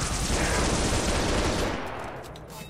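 Rapid automatic gunfire from the video game Halo Reach fills a dense, sustained burst, loud and continuous, thinning slightly toward the end.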